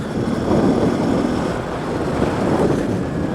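A Hero Xpulse motorcycle engine running smoothly on Fuelx fuel additive gives a steady, continuous rumble blended with wind noise while riding, with no talking.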